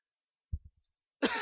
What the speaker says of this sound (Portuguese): é uma tosse seca que já tomei 2, 3 xaropes